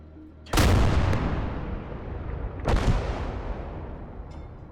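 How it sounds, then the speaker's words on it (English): Two heavy artillery shells fire in the Gates of Hell war game, each a loud close boom rolling into a long decaying rumble, a couple of seconds apart. "start just throwing some shells downrange"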